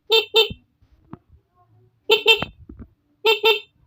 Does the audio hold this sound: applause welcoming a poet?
no